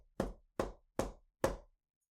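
Four sharp, evenly spaced knocks on a solid surface ring out loud and close against silence.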